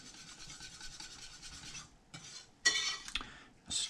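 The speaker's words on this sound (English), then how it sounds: "stir this up a little bit while we wait" A utensil stirring crepe batter in a bowl, with quick rhythmic scraping strokes, a short pause, then a few louder scrapes and taps nearby.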